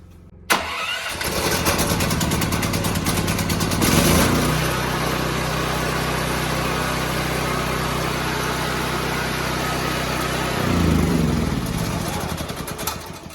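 A Firman portable generator's small engine cranks, catches after a carburetor cleaning and spark plug refit, then runs steadily at a loud, close, even drone with a brief surge near the end.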